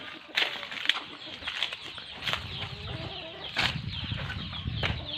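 Chickens kept by a rural child flap their wings in sharp bursts and cluck nearby, with a little talking in the background.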